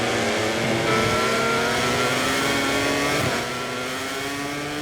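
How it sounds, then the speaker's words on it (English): Racing motorcycles in the MotoGP 24 game roar at full throttle, a loud, sustained engine drone with rising and falling pitch as bikes accelerate, with no voices over it. "Back on the power, so someone's overtaken Marquez"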